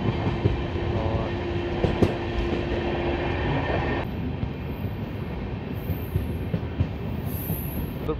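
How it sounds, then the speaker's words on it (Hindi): A Bandra superfast express pulls into Rudrapur City station, a loud steady rumble of rolling railcars with wheel clatter and a brief squeal, continuous and close throughout. "रुद्रपुर सिटी जो है वो पहुंच रही है ट्रेन"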